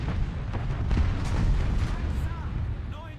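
Tank cannon fire in the War Thunder video game, heard as a series of deep booming shots with rumbling low-end decay over a busy battle mix, with some faint background voice chatter.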